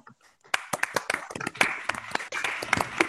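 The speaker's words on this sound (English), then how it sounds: "let's give them a big round of applause" A handful of participants on an online call clap after the speakers, giving scattered, uneven individual claps that start after a brief quiet moment and continue in an irregular patter, close and a little thin.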